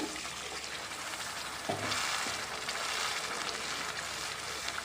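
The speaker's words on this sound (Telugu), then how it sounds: "ఇలా కొంచెం కొంచెం యాడ్ చేసుకుంటూ షుగర్ సిరప్ మొత్తం అంతా కూడా కలుపుకుంటూ ఫ్రై చేస్తాం తిప్పుకోవాలండి" Rava kesari sizzles in a pan as sugar syrup is added bit by bit and stirred in. A quieter crackling fry swells into a louder, fuller sizzle partway through and then keeps going steadily.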